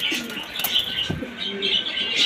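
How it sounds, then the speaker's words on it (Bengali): A pair of Australian red doves coo softly in a close, quiet space, with low, rounded calls mixed with faint chirps and a brief flutter. "এইখানে রয়েছে দর্শক এক জোড়া অস্ট্রেলিয়ান লাল কালার ঘুঘু"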